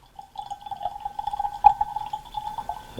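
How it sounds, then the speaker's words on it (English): Sir Edward's blended Scotch whisky poured from a bottle into a glass, a thin, close trickling stream with a faint ringing tone and a small splash midway, fairly quiet overall. "It makes it easier to pour, but I can still manage to spill it with my shaky hands."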